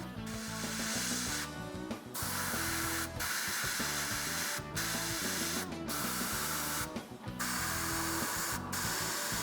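An airbrush sprays Tamiya XF85 rubber black paint onto a Hasegawa 1/48 A6M2b Zero model, a continuous close hiss broken by several short pauses as the trigger is released.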